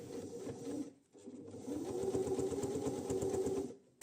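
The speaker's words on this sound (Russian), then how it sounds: "Строчку прокладываю в предыдущий шов." A sewing machine stitches patchwork fabric for a scrap-fabric basket, running in two quick bursts of rapid mechanical whirring and needle clatter with a short pause between them, close and clear with no talk.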